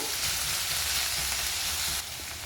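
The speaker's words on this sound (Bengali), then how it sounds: "পেঁয়াজটা এখানে আমি ভাজা ভাজা করে নেব" Chopped onions sizzle loudly in hot oil, a dense, continuous crackling hiss up close that drops slightly near the end, with no voices.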